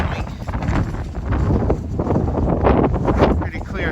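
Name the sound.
wind blowing on a fishing pier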